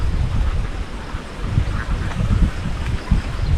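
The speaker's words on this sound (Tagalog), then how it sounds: "Magkwak-kwak-kwakan yan." Several ducks quack in bursts close by outdoors in the countryside near Lopez, Quezon, their calls rising over gusty wind noise on the microphone.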